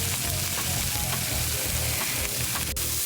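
Sausages frying in a pan make a continuous dense sizzle and crackle with a few sharper pops, alone and close.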